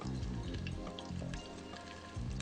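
Chicken wings frying in a pan over lowered heat, a steady dense sizzle of hot oil with soft crackles, close and continuous with no talking.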